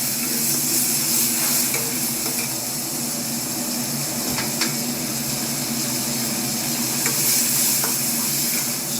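Balti curry sizzling steadily in a fired pan at a Birmingham Balti house, a dense continuous hiss with occasional sharp spits and clinks, close and fairly loud, no talk.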